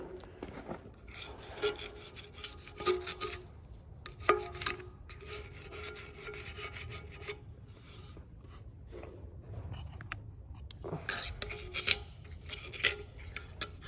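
Scraper working old silicone off a Gleaner R72 combine final drive part, a series of short rasping scrapes in irregular bursts with brief pauses between, close and fairly quiet, no talking.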